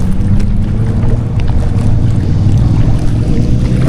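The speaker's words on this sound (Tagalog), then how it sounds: "Lakas talaga ng hangin." Strong outdoor wind buffets the microphone with a loud, continuous low rumble and gusting roar, steady throughout with no talking.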